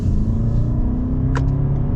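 A Toyota Camry XSE Hybrid accelerates at full throttle, heard from inside the cabin as a loud, steady engine drone with a low rumble, and nobody speaks.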